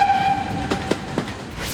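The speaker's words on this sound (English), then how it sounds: "Did you hear the sound from the train whistle?" A train whistle gives a brief high steady tone at the start over the rolling rumble and rhythmic clicking of a passing train on the track.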